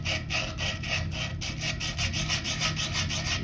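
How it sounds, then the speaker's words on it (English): Sandpaper scrubs corrosion from the inside of a toilet vacuum breaker tailpiece during a water closet rebuild, a steady, close, continuous rasping with a quick back-and-forth rhythm and no talking. "So now you take your sandpaper and you can clean the whole inside."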